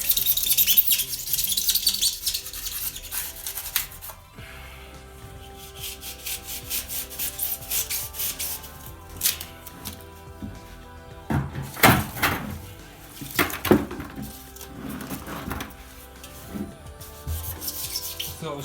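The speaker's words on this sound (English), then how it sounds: "Thought I was finished cutting spray foam." A knife sawing and rubbing through cured spray foam insulation, a long stretch of scraping and squeaky friction strokes close by, rising in bursts toward the middle, without speech.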